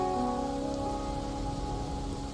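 Steady rain falls in the video game Wuthering Waves, a dense, even hiss of drops spread across the whole clip with faint tonal music threads underneath.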